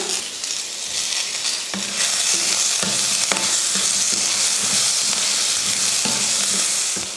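Onion, dal and tomato sautéing in a pan make a loud, continuous sizzle, broken by repeated spatula scrapes and knocks at a steady stirring rhythm, heard close up with no voices.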